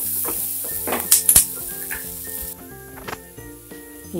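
Spices hitting hot oil for a pav bhaji tempering, a few short sharp bursts of sizzle with a clatter of a pan, over steady background music.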